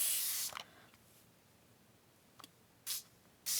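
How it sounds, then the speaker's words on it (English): A water spray bottle hisses close by onto paper ephemera: one long burst, then after a pause a faint spritz and two more short, sharp sprays. "I'm just going to be nosy and see what happens if I spray water on it"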